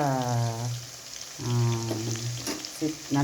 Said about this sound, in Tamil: கொஞ்சம் ரொம்ப கருகாமல் ஓரளவுக்கு வறுத்து எடுத்துக்கலாம்.